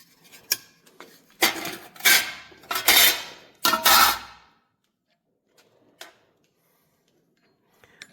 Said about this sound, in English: So these 2 plugs then will punch these holes out.